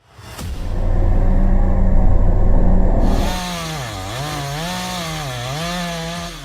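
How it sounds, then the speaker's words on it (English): A big chainsaw cuts into tree wood, roaring loud and close at full throttle before the engine pitch wavers up and down as the blade works through the cut. "The roar of the saw. The crack of the wood."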